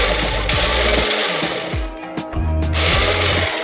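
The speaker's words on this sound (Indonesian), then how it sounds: "starter tangannya tidak bisa, jadi bunyinya seperti ini" Yamaha Mio motorcycle with a faulty kick starter slipping: a loud, continuous mechanical grinding and whirring with short dips and rattles, heard alone and up close.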